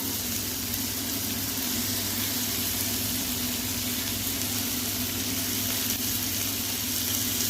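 Tomato goes into a pan of frying snail curry with fried potato and brinjal, raising a steady, close, continuous hiss of oil that holds even throughout.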